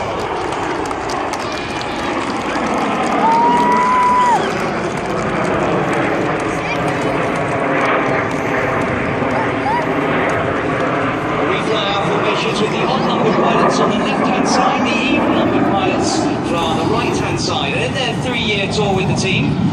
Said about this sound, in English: the aircraft are all going to smoke as they fly the Diamond Roll